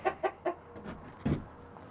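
Hens in a laying flock of about 25 birds, in winter, cluck close by: three short even clucks, a softer murmur, then one louder squawking cluck, with no talk.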